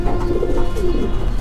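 Magpie pigeon cooing in a loft, a loud, close, continuous low throaty coo with no talking.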